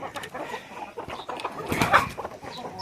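Chickens cluck on a poultry farm keeping breeder birds, with busy, overlapping clucks and calls at close range and a louder burst partway through.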